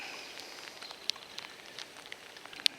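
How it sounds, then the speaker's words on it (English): Rain falls outdoors beside an old church on a cold, windy day, heard as a soft continuous patter with scattered sharper drops ticking on a nearby surface, faint and even throughout. "on this nasty old day here, and it's raining out"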